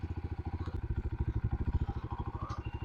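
A KTNS TT 150 Classic motorcycle engine idles close by with a steady, even thumping putter, each firing pulse distinct and regular, with no talk over it.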